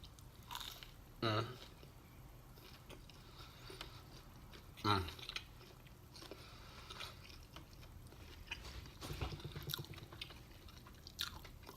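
Soft, delivered yuca fries are eaten up close, with a few distinct bites and moist chewing spread over quiet background noise, faint apart from two louder bite moments.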